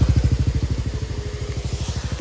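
A TVS NTORQ 150 scooter engine idles close by with a steady, rapid, even putter that holds throughout, loud and alone without any talk.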